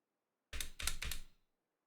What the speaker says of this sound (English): Why can you hear my keyboard so loud?